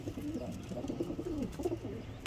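Pigeons cooing in a loft, soft low rounded coos repeating through the clip at moderate distance over a steady background hum.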